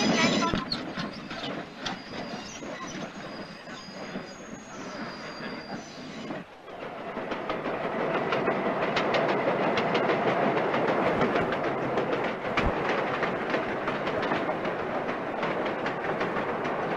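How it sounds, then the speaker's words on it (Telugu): Godavari Express passenger train arriving at a railway platform, a loud steady rumble of wheels and carriages with squealing brakes and clatter, a platform announcement voice heard over the start. "7007 Godavari express shortly arriving on platform number 1A."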